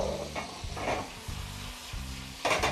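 Veal with wine simmers and sizzles in a pan, a steady frying hiss with a few louder bursts of crackle and some low stirring clatter, heard close and alone without any voices.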